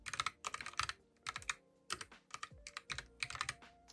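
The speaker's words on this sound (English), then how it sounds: "I really like it because of the sound of the keys, and it's pretty good for typing" Rapid clacking keystrokes on a Logitech POP Keys keyboard come in quick bursts with short pauses, close and crisp, with no voices.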